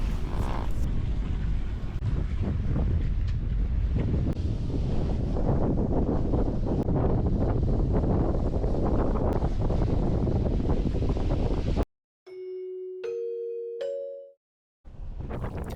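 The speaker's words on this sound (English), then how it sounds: "This is no easy feat when the headwind is blowing 10 to 15 knots." Strong 10 to 15 knot headwind roaring across the microphone aboard a sailboat, a loud continuous buffeting rush that cuts out near the end, where a short electronic beeping tone sounds before the wind returns.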